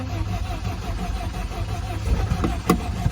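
A 1977 MGB's engine cranks on a boosted battery, trying to start: a steady low mechanical churning with faint rhythmic pulsing that rises slightly toward the end, with no talk.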